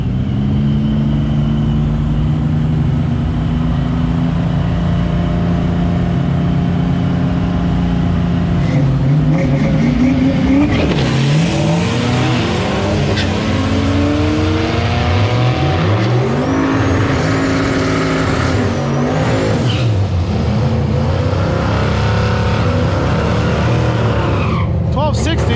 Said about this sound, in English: Timmy Combs back out here in the 460, the yellow coupe